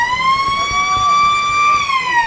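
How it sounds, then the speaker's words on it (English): At an Australian football match between Balwyn and Noble Park, a loud, sustained siren rings out alone in a steady, slightly bending tone that marks the start of the final quarter. "The siren sounds to begin the final stanza of this game."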